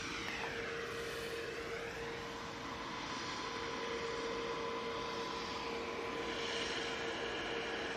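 Aer Lingus A321 from Dublin going around at Manchester Airport, heard as a steady jet engine roar with a whining tone and shifting pitch as the airliner climbs past at a distance, fairly constant throughout.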